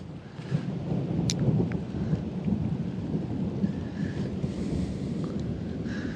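Rolling thunder rumbles during a storm at a river bridge, with rain and wind buffeting the microphone in a steady, moderately loud wash.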